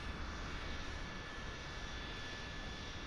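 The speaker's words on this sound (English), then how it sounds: "Alright, that engine's on." Steady jet engine roar from a Phenom 100 starting up in MSFS 2024, a broad, even whooshing rumble with a faint high whine, constant and unbroken throughout.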